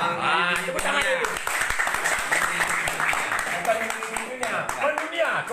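A group of people claps hands together in a steady burst of rapid claps, mixed with voices talking and calling out over the clapping throughout.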